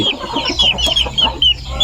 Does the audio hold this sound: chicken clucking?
yes